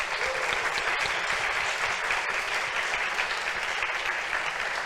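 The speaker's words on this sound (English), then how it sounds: "Please join me in giving these guys a great round of applause." A crowd applauding a presenting group at a government design final show, dense continuous clapping that holds steady and full for the whole stretch, with no break.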